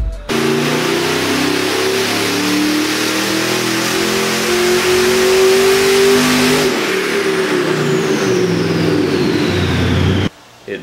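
A twin-turbo big block Chevy engine with a dual-injector billet intake revs loudly and steadily, its roar rising and falling close by for about ten seconds before cutting off abruptly.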